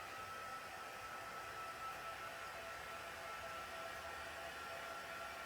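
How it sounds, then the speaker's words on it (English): A heat gun blows over a watercolour-wash Christmas card, giving a steady, faint, even whoosh of hot air with no breaks or voices. "I'm going to quickly zap it with the heat gun just to give it a quick dry"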